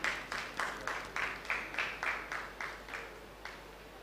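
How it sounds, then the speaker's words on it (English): Audience at a dance competition grand finale gives a dancer a round of applause, steady bursts of hand claps at an even rhythm, fairly faint and fading slightly toward the end, with no voices over it. "Let's give an applause for Jeremy J."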